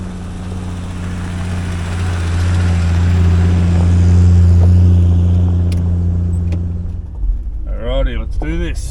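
A 4x4 vehicle in low range first gear, towing a trailer, crawls up a hill track at Marrangaroo National Park, its deep steady engine drone swelling and holding loud before easing off, with a voice speaking briefly near the end.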